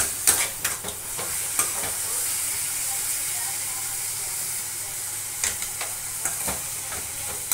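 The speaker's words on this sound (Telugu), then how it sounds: "ఇది చింతపండు వేసేస్తున్నాము" Tamarind and tomato cook down in a pan with drumstick leaves for a chutney, a steady soft sizzle and hiss running throughout, broken by a few sharp stirring scrapes near the start and end.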